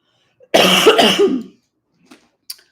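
A single harsh, loud cough burst close by, followed by quieter throat noises and a faint click.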